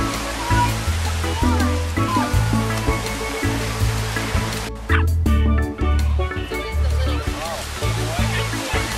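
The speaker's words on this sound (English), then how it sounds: "Good dog, Beach." A dog yips and barks repeatedly on a beach beside loud, continuous crashing surf, with a brief shout partway through.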